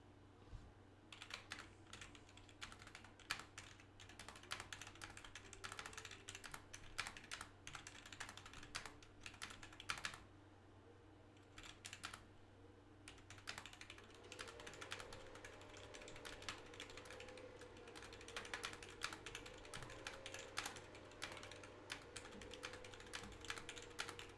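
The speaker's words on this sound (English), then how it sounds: "So I'm gonna just type it manually." Steady typing on a computer keyboard as a title is entered, with rapid, continuous key clicks over a low background hum, fairly quiet and close, no speech.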